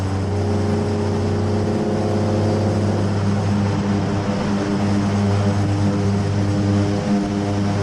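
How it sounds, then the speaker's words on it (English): A propeller aircraft landing on a very short runway, its steady droning engine continuous and fairly loud, with a slight shift in tone partway through and no talking. "here comes Tony de Bruin landing on a very, very short runway"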